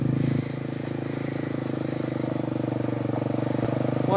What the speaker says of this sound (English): Sounds like a really cool 4-wheeler.